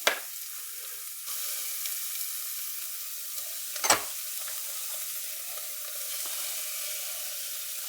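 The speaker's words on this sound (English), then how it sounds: "Add a little bit of oil to your pot and just sweat your carrots," Carrots, onions and celery sweat in oil in a soup pot for Greek avgolemono chicken soup, a faint, soft sizzle broken by a couple of brief clinks or knocks.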